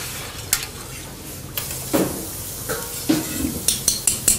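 Spoon stirring sugar into a homemade drink in a metal pot, a series of sharp clinks and scrapes that come faster toward the end, close and clear over a quiet kitchen background.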